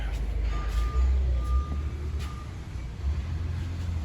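A forklift's reversing alarm beeps in a slow, steady series at a potato loading site in Idaho, set against a low engine rumble and the air of a truck yard, moderately distant.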